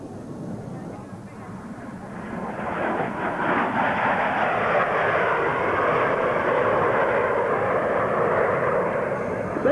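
Blue Angels jets in a right echelon formation sweep past at about 350 miles per hour at a 1987 Carswell Air Force Base airshow, a broad jet roar swelling from faint to loud and holding steady with a crowd murmur beneath.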